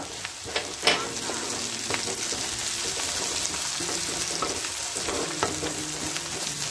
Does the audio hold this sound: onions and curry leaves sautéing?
yes